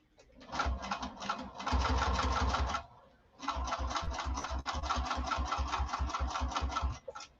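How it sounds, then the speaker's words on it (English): A sewing machine stitches fabric in two close bursts of rapid, rhythmic clacking, separated by a short pause. "I'm just going to stitch past it a couple of stitches"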